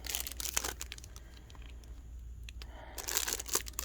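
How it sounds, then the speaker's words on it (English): Quiet crinkling and tearing of plastic packaging, scattered rustles and snaps that bunch up at the start and again near the end. "So first things first, we're going to take it out of the package."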